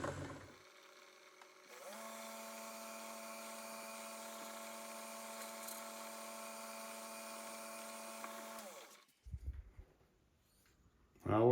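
A number 51 tap drill bores into a soft aluminum engine front plate, a steady high whine for about seven seconds that starts and stops abruptly, with brief handling noises around it.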